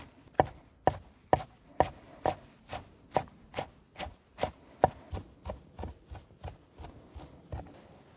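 Fresh green basil and parsley are chopped with a knife on a board for a Bukharan green plov, a quick run of crisp, evenly spaced cuts, close up and clear with no talking.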